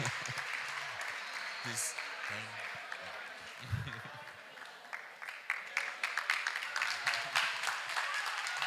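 Audience applause at an e-learning week event in Obuasi, a crowd clapping beneath a speaking voice at first, then sharper, more distinct claps growing louder toward the end.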